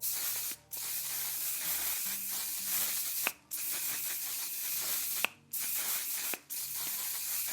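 Continuous hissing makeup setting spray mist, interrupted by three short gaps with faint clicks, close and fairly loud with no talking.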